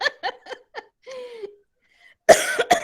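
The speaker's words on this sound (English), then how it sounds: "Okay, now the coughing." A person coughs several times in quick succession, pauses briefly, then lets out two louder, harsher coughs, all close and clear.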